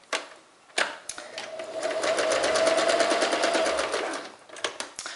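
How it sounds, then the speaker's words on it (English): A sewing machine runs steadily for a few seconds, stitching a straight line through thin fabric with a fast, even mechanical chatter, bracketed by short clicks and handling noises before and after. "I'm going to go ahead and sew a straight line"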